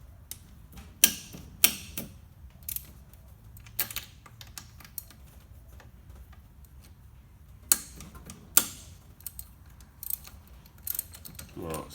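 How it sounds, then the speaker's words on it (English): A deep-reach ratchet works bolts loose on the VSV bracket of a 150-series Toyota Prado, giving sharp, irregular clicking bursts and metallic ticks up close, with quieter gaps between the turns. "We're taking the bottom bolt out of the side."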